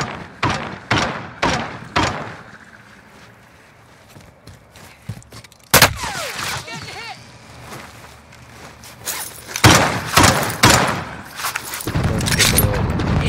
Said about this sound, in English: Shooting grenades at him.